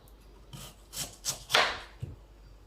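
A knife cuts through raw yam in a cold kitchen with several separate crunchy slicing strokes. The cuts come close and fairly distinct, with short pauses between them.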